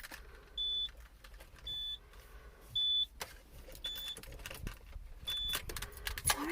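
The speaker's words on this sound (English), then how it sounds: "I guess we'll watch this window here. When I start the vehicle, you'll notice that they go automatically into place." Power windows on a 1993 Subaru SVX LS-L 25th Anniversary edition moving into place on their own, heard as a series of short, evenly spaced electric whirs and chimes close by inside the car over a low background hum.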